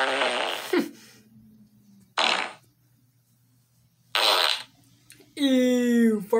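Cartoon parody fart sound effects: several short, loud bursts separated by pauses, the last one a rippling, tonal squeak that ends the run, with a low steady hum in the background.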